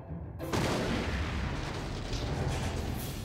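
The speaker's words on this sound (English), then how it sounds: "What was that explosion?" A loud explosion in a Cy Girls PlayStation 2 cutscene: a sudden deep blast bursts in after a brief silence and rolls on as a dense, rumbling roar through the rest of the clip, with no talk.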